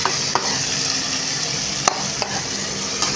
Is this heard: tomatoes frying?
yes